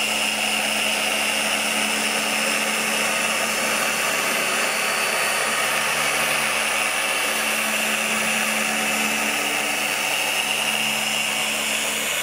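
An electric car polishing machine running on a Tesla's paintwork at a cutting speed setting, giving a continuous loud whirring drone with a steady tonal hum, close and unbroken throughout.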